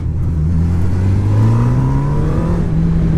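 A 2018 Honda CB1000R motorcycle engine pulls hard under acceleration, its loud, close exhaust note rising steadily in pitch through the rev range without any speech.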